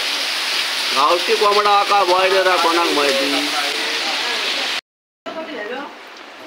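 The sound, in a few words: rain falling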